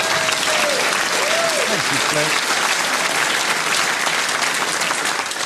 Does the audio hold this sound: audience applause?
yes